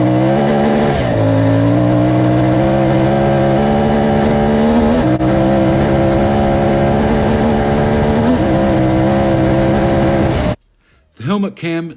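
CFMoto Ibex 450 motorcycle riding at speed on a rough surface: a loud, steady engine drone with rising and falling pitch and heavy wind noise, close up, cutting off abruptly near the end into a few short bursts.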